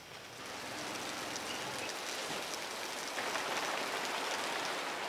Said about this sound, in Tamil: மழையும் பெய்ய ஆரம்பிச்சிச்சு